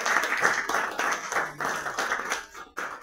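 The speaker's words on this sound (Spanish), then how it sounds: "El señor Jaime Vázquez Palcárcel, por favor, un aplauso." Audience applause at a book presentation event at a club in Loreto, clapping in a steady patter that swells and dips over about three seconds, then briefly cuts out before resuming.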